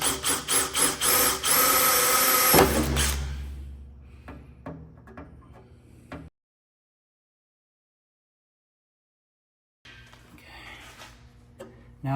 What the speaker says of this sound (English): I've marked my holes, so I'm just going to drill each one of them.